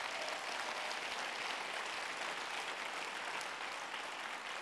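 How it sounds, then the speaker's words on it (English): Sustained audience applause at a conference, a dense, even wash of many hands clapping, moderately distant and steady for the whole stretch with no talk over it. "I think we should give them another round of applause."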